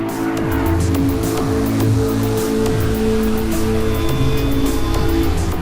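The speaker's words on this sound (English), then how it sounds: "KRUGER still running on his own pretty much, turning now into Copse Corner" Porsche 911 GT3 Cup race cars in the Carrera Cup pack at Silverstone, cornering through Copse, roar close by with layered engine notes and gear-change sweeps, loud and continuous throughout.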